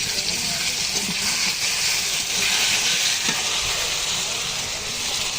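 Cumin paste goes into a pan of fried potatoes, giving a loud, continuous broadband sizzle and hiss at close range, with faint clatter underneath.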